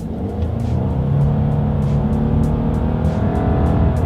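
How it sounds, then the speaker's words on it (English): A 2020 Subaru Legacy sedan accelerating hard, its engine note droning steadily and rising in pitch through the gear, loud and continuous from inside the car with no talking. "let's go ahead and see how quickly we can get this new 2020 Subaru Legacy here up to speed"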